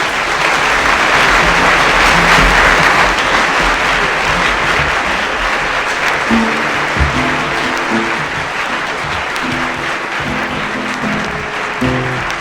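Sustained, dense applause from a large audience at a 1970 live concert in Washington DC, loud and steady throughout, with faint musical tones emerging beneath the clapping in the second half.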